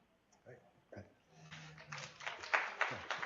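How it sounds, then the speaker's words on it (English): Audience applause for a presenter at an educator workshop, starting with a few scattered claps and swelling into steady, moderately loud clapping from a room of people. "I'd reserve your applause until you see this"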